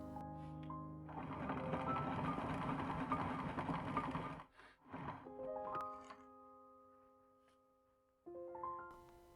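A sewing machine stitches down a fold of fabric on a hussif, whirring steadily and close for about three seconds before a shorter second burst. Sustained musical tones play around it.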